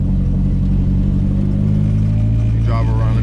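A Nissan S13 driven hard on wet roads, its engine droning loud and steady from inside the cabin with a constant low rumble, a voice talking over it.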